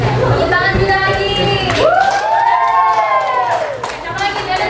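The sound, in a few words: children applauding and cheering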